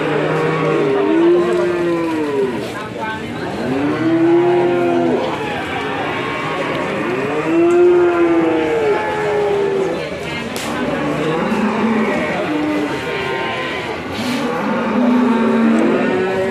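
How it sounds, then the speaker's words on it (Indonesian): Belgian Blue cattle moo repeatedly in long, loud, low calls, one after another, with a busy background of other animals and people at a cattle market in Yogyakarta. "Jarang-jarang ada sapi Belgian Blue masuk pasar sapi di Jogja."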